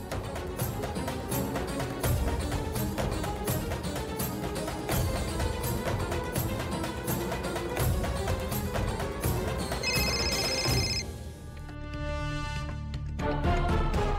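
Phone ringing on an outgoing call, repeated ring tones in a steady pattern with no one talking, then a short break and a tone near the end.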